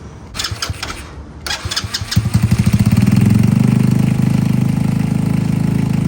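A Boom Vader motorcycle running a Nibbi PE 24mm carburetor on the factory tune: a couple of short cranking bursts, then the engine catches and settles into a loud, steady, close-up idle.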